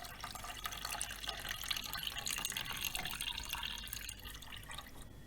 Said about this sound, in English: just get rid of the excess water into the washing up bowl